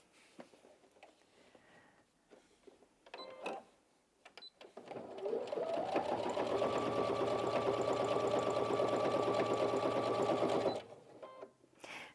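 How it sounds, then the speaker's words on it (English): A Brother Innov-is NV1800Q sewing machine stitches through eight layers of fabric, running in one steady, fairly loud whirring burst of about five seconds after quiet handling noises, then stopping. "when I sew through that many layers on a machine"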